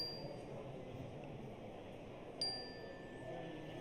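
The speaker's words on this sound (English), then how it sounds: "when I sound the bell" A meditation bell struck once, a single bright ring that fades into a long, thin sustained tone over a quiet room hush, soft and clear, with no speech.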